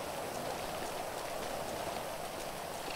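Steady rain falls in the open-world game GTA V, a dense, even hiss of drops spattering on hard surfaces that continues without pause and with no voices.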